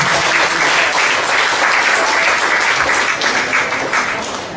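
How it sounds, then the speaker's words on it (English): Sustained applause from a lecture audience after a public university talk, dense and steady throughout before tapering slightly at the end. "Let's give them a round of applause."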